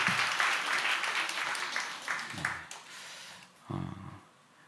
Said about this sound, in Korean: 한번 격려의 박수를.